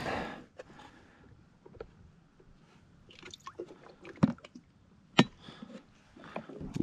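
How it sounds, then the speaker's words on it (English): Live shrimp being threaded onto a fishing hook as bait at a Florida Keys canal: close, sparse soft wet squishes and small clicks separated by quiet gaps, with no voices. "I'm gonna try putting on a live shrimp"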